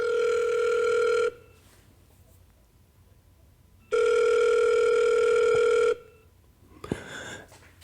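A telephone rings for a radio call-in show: two long, loud electronic ring bursts separated by a quiet pause, followed by a click as the line is picked up.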